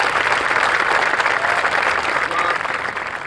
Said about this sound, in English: So another applause if you're here today.